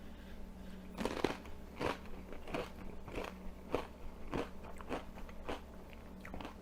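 Close, crisp crunching bites and chewing of spicy pico de gallo made with several kinds of peppers, repeated crackly crunches in an irregular rhythm with no talking.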